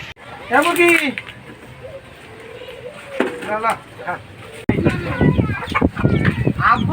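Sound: chicken clucking

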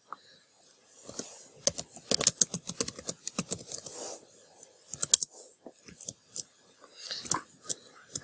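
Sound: typing on a computer keyboard

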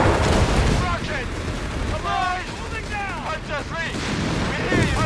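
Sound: rocket explosions and gunfire in a video game (Company of Heroes 3)

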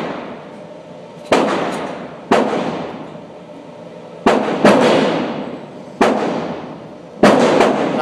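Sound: CZ70 pistol test firing Ruby Partisan 71 grain full metal jacket

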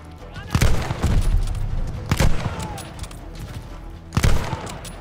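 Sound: gunfire from a gun in the video game Call of Duty Vanguard

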